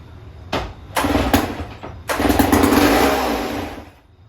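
A vintage Sears chainsaw sputters through a couple of short start attempts, then catches and runs rough and loud for about two seconds before dying away, close and alone.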